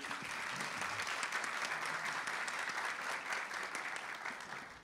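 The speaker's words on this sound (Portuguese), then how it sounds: "Palmas para o Éric" Audience at a personal development seminar applauds a speaker named Éric, a full, steady round of clapping that holds evenly and begins to taper at the end.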